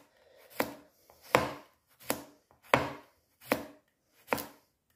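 A knife slices cucumber on a board for a peri peri chicken salad: six crisp, evenly spaced chops at a relaxed pace, close and clear, with quiet between strokes.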